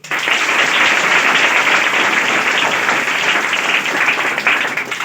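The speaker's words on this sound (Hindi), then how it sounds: "उसके लिए अपने लिए एक बार ताली लगाइए आप लोग" A room full of people at a motivational talk breaks into sustained applause for their own success, a dense, steady wash of many hands clapping close and loud throughout, with no voices.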